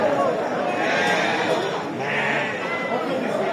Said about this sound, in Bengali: এখানে প্রচুর ছাগলের সমাগম হয়